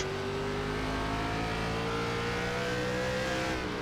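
An ARCA Menards Series stock car engine at Irwindale in the iRacing video game, holding a steady, loud high-pitched drone under throttle that slowly climbs in pitch, with no talk over it.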